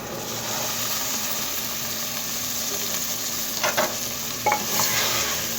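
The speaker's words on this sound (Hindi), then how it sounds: "चम्मच की मदद से अच्छी तरह मिक्स कर लेंगे।" A spoon stirs boiled black chickpeas into masala in a pot, a steady sizzling frying hiss with a few short scraping clinks of the spoon near the end.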